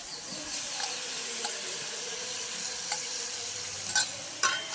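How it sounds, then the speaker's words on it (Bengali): Marinated chicken in yogurt meets hot fried spices in a pan, giving a steady close frying sizzle with occasional spoon scrapes and clicks from stirring, and no voices. "এবার আমি ম্যারিনেট করা মাংসটা দিয়ে দেবো এতে।"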